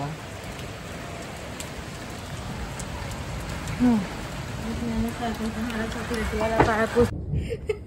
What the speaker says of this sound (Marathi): ए मजा येते पाऊस पडतोय बघायला।